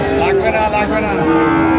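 A Sahiwal heifer calf at a farm in Brahmanbaria lets out a close, loud, drawn-out moo that lasts through the moment.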